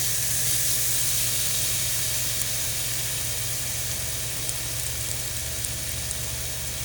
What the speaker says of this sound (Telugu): అల్లం వెల్లిపాయ పేస్ట్ పచ్చివాసన అయ్యే వరకు వేయించండి